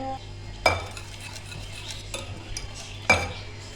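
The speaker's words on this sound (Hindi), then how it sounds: "मैं इसको थोड़ा सा मिक्स कर लूँ" Cake batter mixed with half a cup of oil in a bowl for an eggless fruit tea cake, heard as a steady soft scraping and stirring with a few sharp utensil clinks against the bowl.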